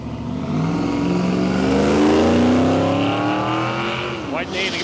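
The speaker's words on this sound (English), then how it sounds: "You can hear him trying to fight the tyres there on the start line there." A drag racing car at Palmyra Raceway, Australia, revs hard on the start line as the driver fights for tyre grip, a loud sustained engine roar with rising pitch, under a commentator's voice.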